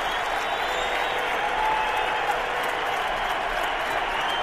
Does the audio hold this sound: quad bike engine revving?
no